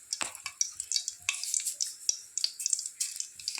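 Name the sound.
mustard seeds spluttering in hot oil with dried red chilli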